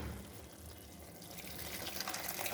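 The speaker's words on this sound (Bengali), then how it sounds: "নিয়ে এখন দিয়ে দেবো জল, ফুটানো জল" Boiled water is poured into a pot of thin rohu fish curry with potato and lentil dumplings, a steady, close liquid rush that grows slightly louder near the end, with no talking.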